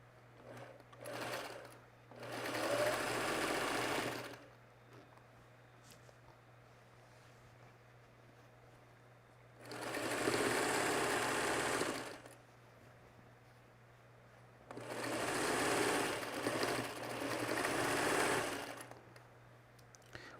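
A sewing machine stitches rows of a mini-charm quilt in three separate bursts of fast, even mechanical whirring, close by, with quiet pauses between the runs.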